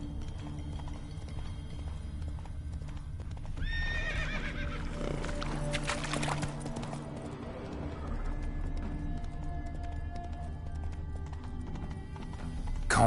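Roach, the horse in The Witcher 3, snorts and whinnies loudly up close over a steady clip-clop of hooves, with the whinny standing out in the middle before the hoofbeats carry on.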